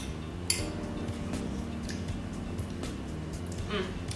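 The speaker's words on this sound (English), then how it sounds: "And then give it a quick stir and just taste it." Quick stirring of a Thai beef salad dressing in a bowl, with faint clinks of a utensil against the dish repeating steadily under constant background noise.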